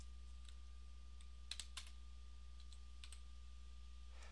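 Numbers are typed on a computer keyboard during a children's math game, a few faint, scattered key clicks over a steady low hum.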